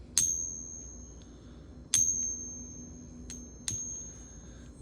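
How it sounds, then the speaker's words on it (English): A silver coin given a ping test, struck three times at spaced intervals, each strike ringing out as a bright, high, sustained tone that slowly fades over a quiet background. "we can do a ping test to see if this has got a good silver sound"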